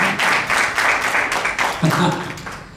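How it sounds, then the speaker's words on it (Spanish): A church congregation breaks into sustained applause, steady clapping that swells and dips across the clip while a preacher's voice carries over it. "Den un fuerte aplauso al Señor en esta tarde"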